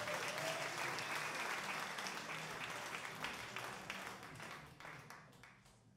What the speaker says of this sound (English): give another round of applause to these gentlemen, please.